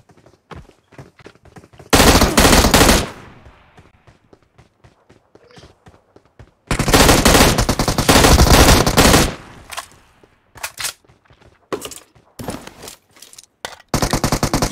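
Bursts of automatic gunfire from a mobile shooter game, two long loud volleys around two and seven seconds, with scattered shorter shots and a final burst, a voice talking faintly in between.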